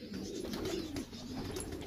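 Captive pigeons, racing and fancy birds kept in a loft setup, give soft low cooing calls close by, faint and without speech.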